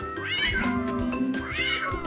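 A cat meows twice in close succession, each a rising then falling drawn-out cry, over a musical background.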